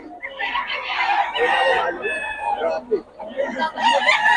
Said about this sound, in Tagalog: Yung mga manok ni Boss Gaga mga idol.